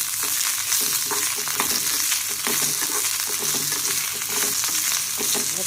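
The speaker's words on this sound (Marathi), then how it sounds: "हे सगळं व्यवस्थित खरपूस भाजून घ्यायचं तेलात." Cumin and spices roasting in oil in a pan for bitter gourd chutney, a busy crackling sizzle with frequent pops and stirring scrapes, close and continuous.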